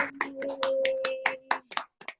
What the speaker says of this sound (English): I wonder if we could just have a round of applause for Eileen.